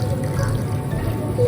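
Water pours steadily into rice and vegetables for aloo matar pulao, a soft continuous trickle and splash heard close up with no talking.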